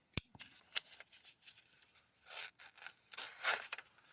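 A cheap knife bought on Amazon drags and scrapes against material it barely bites into. Sharp ticks and short rasping strokes come close up and in bursts, with quiet gaps between them.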